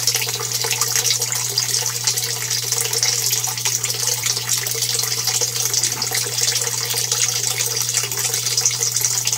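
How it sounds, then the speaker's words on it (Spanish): In an aquaponics system, water pours steadily into a gravel bed as a continuous, loud gushing flow with a constant low hum underneath, close by and with no voices. "demora un poco en arrancar, pero una vez que el caudal es suficiente, aumenta el caudal"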